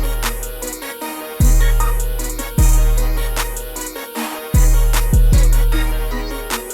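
Glo-style hip hop beat with the low end of the melody filtered out, letting deep sliding 808 bass notes punch clearly beneath a bright repeating melody; loud, steady loop with no talking.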